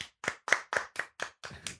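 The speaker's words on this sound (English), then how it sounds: "Everybody clap your hands." An audience claps in unison, seven sharp, evenly spaced claps ringing out close and clear in a steady rhythm, with a faint voice under the last one.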